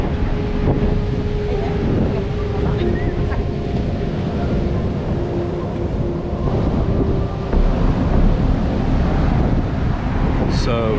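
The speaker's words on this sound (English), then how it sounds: "These waves are huge." Heavy surf from Hurricane Nicole's storm surge rumbles continuously on a debris-strewn beach, blended with strong wind buffeting the microphone; loud and steady throughout.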